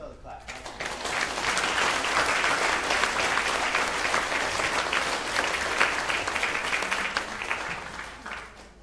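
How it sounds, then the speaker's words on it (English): Participants at an activism workshop clap together in a steady round of applause lasting several seconds, even and fairly close, rising and then tapering off. "give yourselves a clap"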